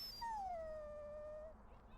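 A Mabari war dog in the video game Dragon Age Origins gives a single drawn-out howl that slides downward and fades after about a second and a half, clear and close, with no talk over it.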